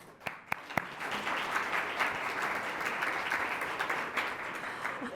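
An audience at a Columbus Metropolitan Club forum breaks into applause, a few sharp early claps swelling into a sustained, even round of clapping heard from a moderate distance.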